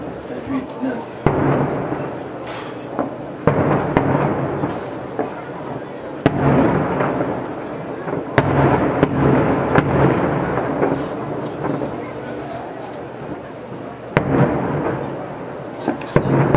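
Repeated whistling fireworks bursts and crackles in quick clusters during a finale, loud and close, with a crowd voice rising over them at times.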